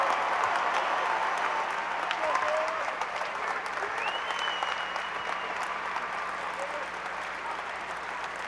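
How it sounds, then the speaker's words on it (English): Broad, steady applause and crowd noise filling a high-school state championship basketball arena for the team, a distant roar of clapping with faint cheers and whistles mixed in throughout. "Let's give them a round of applause."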